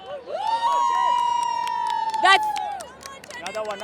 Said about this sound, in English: Let's hear a cheer.